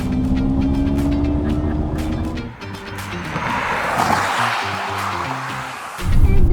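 A Mercedes-Benz EQS electric car accelerating, with a steady drive hum and rising road and wind noise heard from inside, loud and continuous with no talking.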